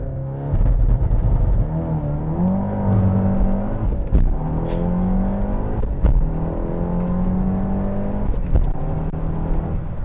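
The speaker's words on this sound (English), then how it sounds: "That is no lift to shift as well, along with that nasty brake boost, or sorry, nasty 2-step." A 2019 VW Golf R with a Stage 2 tune revs hard and accelerates, its loud, close engine note climbing through gears with quick no-lift shifts that barely break the pull, plus a brief crackle between shifts.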